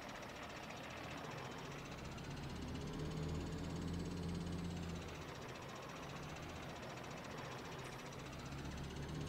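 A tractor with a front loader in the Farming Simulator 19 video game runs with a steady, dense diesel rumble and knock, swelling slightly midway, with no talk over it.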